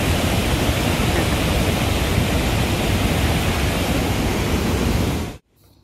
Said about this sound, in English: Devil's Throat is the largest of about 275 waterfalls making up Iguazu Falls.